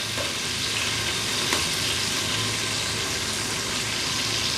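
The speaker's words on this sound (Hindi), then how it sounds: "देखें, मैं भून रहा हूँ इसको" Onions sizzle loudly and steadily in a hot pan while being stirred to brown lightly for a potato and chicken curry, a dense continuous crackle with faint scraping and no voices.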